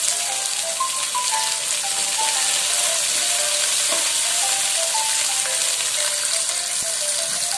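Spinach with tomato and chili being stir-fried in a pan with oyster sauce, giving a steady close sizzle and crackle of frying with faint stirring scrapes, no talking.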